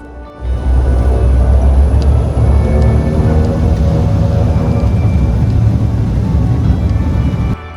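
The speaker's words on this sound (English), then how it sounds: "Time to see how the Dash 7 would do on this short runway on the takeoff." De Havilland Dash 7 propeller airliner taking off from a short Arctic runway, a loud, steady, close engine drone with deep rumble building quickly and holding throughout, no talk.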